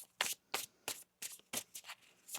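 Tarot cards are shuffled by hand in a quiet room, giving about eight crisp riffling bursts in an uneven rhythm, close and fairly soft, with no talk.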